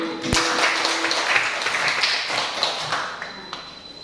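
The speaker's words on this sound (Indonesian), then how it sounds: "Ya, tepuk tangan." A dense wash of applause from a classroom group fills the whole stretch, steady and moderately loud, with a single sharp tap near the start.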